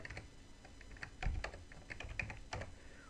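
Someone types on a computer keyboard with quiet, irregular keystrokes and small clusters of clicks, close by and with no voices.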